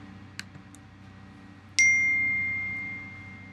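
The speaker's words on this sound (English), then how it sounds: "I got a text message right then" A phone chimes with a text message notification: a single clear ding that rings out and slowly fades, following a couple of faint clicks in a quiet room.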